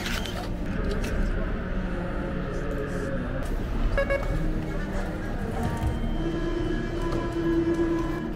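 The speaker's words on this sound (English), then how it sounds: "But I'm waiting for the next metro." Metro train at an airport station, a loud rumbling rail roar with metallic squeals and a brief tonal horn-like hum, steady and close throughout, with faint voices underneath.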